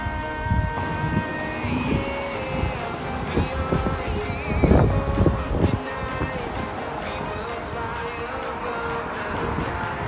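An airplane passes overhead in Edmonton, Canada, its steady droning hum sustained throughout amid scattered nearby outdoor clatter and bumps.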